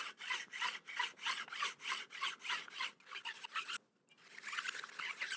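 A card scraper blade rubbed back and forth on a diagonal cut in a simple wooden jig, giving a steady run of about a dozen rasping strokes at an even rhythm, close and clear, with a brief pause near the end before the strokes resume.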